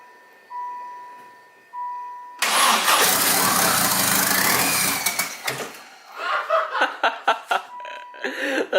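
A car engine with its turbo spooling up and no oil lines connected: two tones, then the engine cranks and fires into a loud roaring rev. It settles into uneven pulsing idle bursts.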